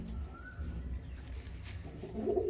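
Madras pigeons coo faintly under a steady background hum, with a low rolling coo rising near the end.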